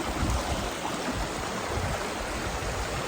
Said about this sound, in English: I'm going to show you guys how beautiful this creek is.